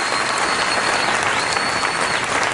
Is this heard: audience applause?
yes